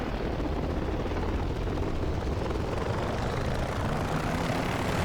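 An OH-6A helicopter engine throttling up in the DCS flight simulator, a steady loud turbine roar with broadband rotor wash that holds constant throughout, no voices.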